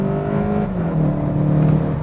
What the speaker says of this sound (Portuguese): Ele já liga o motor a combustão.